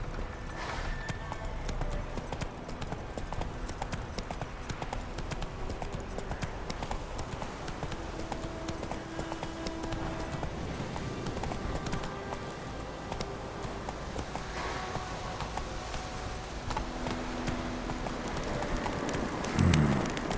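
Horse hooves gallop in a steady, fast clip-clop rhythm throughout a long ride in The Witcher 3 on PS5, running loud and continuous against ambient game music, with a short rider call near the end.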